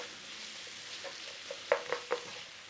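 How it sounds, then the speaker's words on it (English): Woolton pie vegetable filling seasoned with white pepper being stirred in a pan, a quiet background sizzle broken by three or four distinct scraping spoon strokes near the end. "So let's give that a little stir in there."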